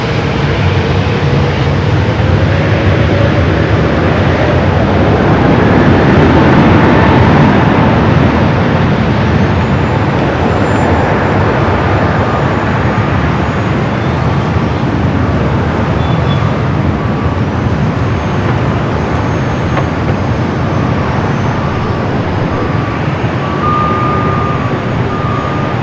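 Asiana Airbus A380 beginning its takeoff roll at LAX, a loud steady jet engine roar rising and holding, broadband and continuous with a faint whine above it.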